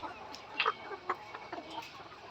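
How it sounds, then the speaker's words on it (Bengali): A few short, faint clucks come from a laying hen, one of the 110-day layer pullets on a poultry farm, spaced irregularly over a quiet barn background. "যেমন এই যে এখানে একটা মুরগি এই যে দেখাচ্ছি"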